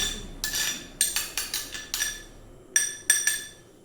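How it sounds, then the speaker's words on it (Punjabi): Curd and aloe vera gel are stirred in a bowl for a face pack: about a dozen bright, close clinks of a spoon tapping the bowl in a quick, uneven rhythm, each ringing briefly, without speech. "ਇਹਨੂੰ ਚੰਗੀ ਤਰੀਕੇ ਦੇ ਨਾਲ ਮਿਕਸ ਕਰਕੇ ਚੰਗੇ ਤਰੀਕੇ ਨਾਲ ਇਹਨੂੰ ਮਿਕਸ ਕਰ ਲੈਣਾ"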